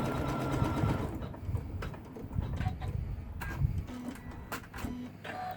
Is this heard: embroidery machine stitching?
yes